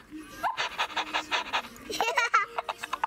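A toy rabbit breathes through its nose in rhythmic, panting puffs, close up, with a child and an adult laughing and talking around it.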